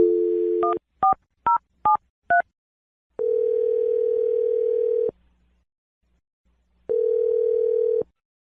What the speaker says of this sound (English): Let's dial his phone number.